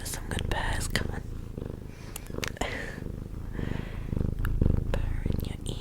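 A cat purrs in a low continuous rumble close to the microphone, while a soft whispering voice and scattered clicks and taps overlay the purr.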